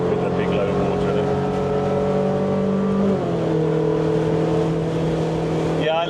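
A Porsche 964 3.8 RS engine at half revs on the Goodwood track, a loud steady droning growl heard from inside the sparse, lightly sound-deadened cabin, with a shift in pitch midway.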